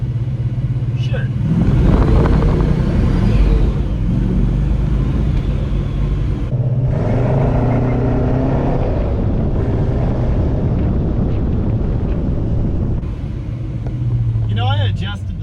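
A rebuilt 1961 Studebaker Hawk's engine rumbles steadily while driving on the highway, a continuous low drone with wind noise, heard under someone talking throughout.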